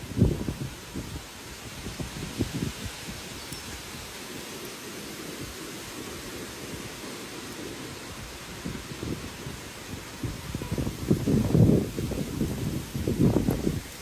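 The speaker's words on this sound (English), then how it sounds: "It's wet and windy." Steady wind blustering across an outdoor microphone on a wet, windy day while perch fishing, with broadband rushing noise and stronger low gusts swelling near the end.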